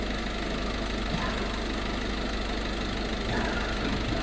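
A Peugeot/Citroën HDi DV6 common-rail diesel with Continental SID807 piezo injectors idles close by, giving a steady, unbroken mechanical drone with a faint knocking texture and no voices.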